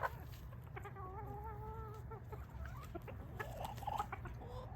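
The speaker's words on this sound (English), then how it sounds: "Now, you could get a rooster that's a little jerk like this one, Stu." Chickens cluck softly on a farm while a rooster sounds a few drawn-out calls, fairly faint and moderately distant, with no talking.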